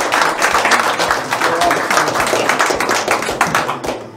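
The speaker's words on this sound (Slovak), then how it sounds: "Ďakujem veľmi pekne za potlesk týmto dvom krajinám" An audience at the opening ceremony of the Federal Cup 2024 applauds, a dense, even patter of many hands clapping that holds steady throughout without pause.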